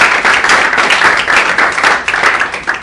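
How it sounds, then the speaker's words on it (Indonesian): A crowd applauds steadily, with many hands clapping at close range for a few seconds. "Jadi kita berikan tepuk tangan sekali lagi untuk Bang Dul."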